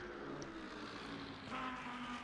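A Lamborghini race car in a racing video game at the Interlagos circuit gives a steady, droning engine note that swells slightly partway through, with no voices.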